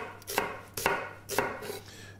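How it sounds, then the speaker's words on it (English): Knife finely shredding onion for a salad on a cutting board, three separate bursts of rapid chopping strokes, close and clear with no talking. "I'm going to shred this very, very fine to get colour"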